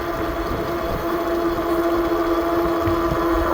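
A FreeSky Rocky electric cargo bike runs at top speed on throttle alone, a steady loud motor whine with a sustained tone over constant rumbling wind and road noise.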